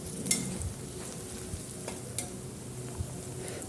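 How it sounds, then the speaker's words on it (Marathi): Onions with green chilli sizzle steadily in a pan, a soft continuous frying hiss broken by occasional stirring scrapes and clicks, close and fairly quiet. "गुलाबी होईपर्यंत कांद्याला आपण इथे परतून घ्यायचे"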